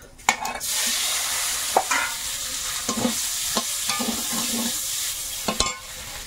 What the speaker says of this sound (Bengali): তেলের মধ্যে সামান্য একটু হলুদ দেবো, দিয়ে ডিমটা দেবো।